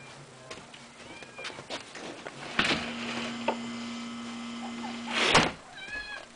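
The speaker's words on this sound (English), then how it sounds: "let me let my cat in real quick." A house cat meows to be let in, a few short calls spread out amid household rustles and a door sliding open, with a steady low hum running underneath.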